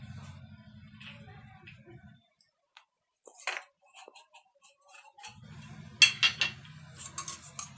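A spoon clinks and scrapes in a bowl while spices such as cumin powder and garam masala are mixed with refined oil for masala paneer tikka, with soft taps and clatters in several bursts over a low hum.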